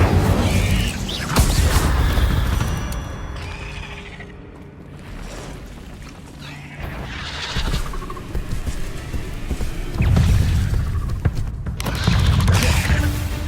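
Incendio fire spells cast in Hogwarts Legacy, booming magical blasts and whooshes between mechanical clatter, several loud bursts spread across the clip with quieter stretches in between.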